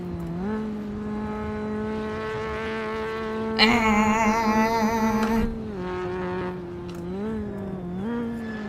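A race car engine in the Assetto Corsa racing game revs hard toward its limit, a steady buzzing drone that climbs, then holds a raspy peak at maximum revs before easing back, loud and continuous.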